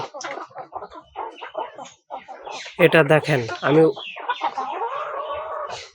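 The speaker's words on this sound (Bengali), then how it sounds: "আমার দেশি মোরগ" Native desi chickens and a rooster cluck and call in a farmyard, with a short loud burst midway, while someone talks over them.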